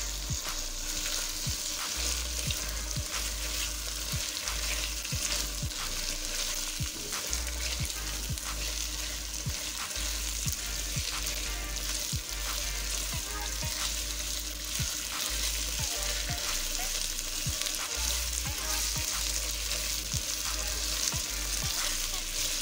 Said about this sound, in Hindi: आलू को इसमें फ्राई कर लेंगे।